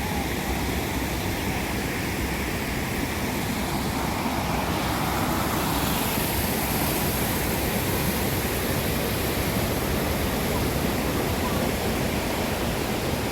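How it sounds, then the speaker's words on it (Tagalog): A steady broadband rush of water at Hong Kong Park, like a torrent or outflow, constant and loud throughout with no break or other sounds standing out. "Parang ang baha ng tubig."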